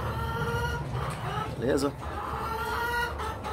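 Laying hens cluck in a shed, a brief burst of calls rising near the middle over steady low shed noise, with someone talking throughout.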